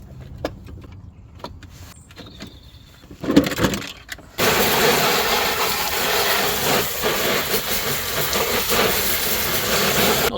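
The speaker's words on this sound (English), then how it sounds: "let's give that a hose down and get it clean." An RC car being hosed down with water: after a few seconds of quieter handling noises, a loud, steady broadband hiss of spraying water starts and carries on unbroken to the end.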